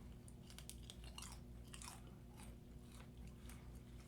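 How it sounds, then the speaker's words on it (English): Quiet, close-up crunching bites into crispy pepper bacon, repeated several times in an uneven rhythm. "I like a good crunchy bacon."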